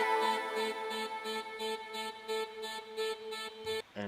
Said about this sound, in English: If I turn it off, it sounds like this.